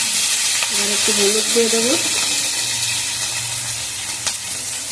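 Chilies fry in hot oil with a loud, continuous crackling sizzle from close by, while a voice speaks briefly over it.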